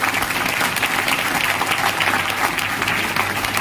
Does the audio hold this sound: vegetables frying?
no